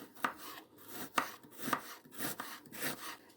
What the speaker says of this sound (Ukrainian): Все, отак от нарізаю всю цибулю